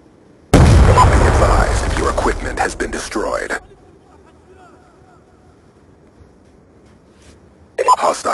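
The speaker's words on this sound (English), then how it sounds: "Hostile grenade!" A grenade goes off in Black Ops 2 gameplay: a sudden loud, close blast with a rumbling low roar and crackling debris that lasts about three seconds, then quiet, with shouted in-game voices around it.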